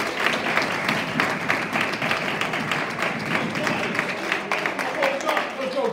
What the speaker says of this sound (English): So give a round of applause for Johnny Miller.